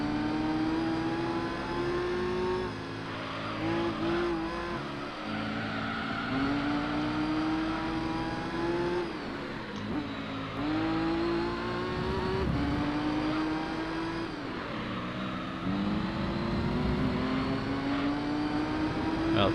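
Racing car engines drone and rev steadily in a Gran Turismo 3 endurance race at Grand Valley, with Toyota Supra cars among the field and shifting engine notes rising and falling throughout.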